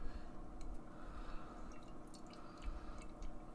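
Great Notion Double Berry Shake sour beer pours into a glass, a soft continuous liquid gurgle and fizz close to the microphone, with a few faint drips.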